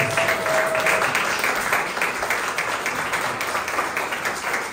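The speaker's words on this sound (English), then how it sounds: "give a round of applause for the great insight" A birthday celebration for Paul Robeson at an arts council in Princeton draws a round of audience applause, a steady wash of many hands clapping at even loudness, tapering slightly toward the end.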